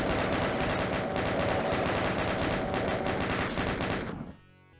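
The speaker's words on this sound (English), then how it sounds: "Then just tap away the chain gun, dealing with the Lost Souls as they spawn in." A chain gun in the Doom video game fires at Lost Souls in a rapid, continuous burst of closely spaced shots lasting about four seconds before cutting off abruptly into quiet.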